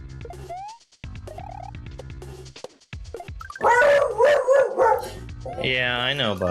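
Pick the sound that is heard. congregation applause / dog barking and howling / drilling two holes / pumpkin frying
dog barking and howling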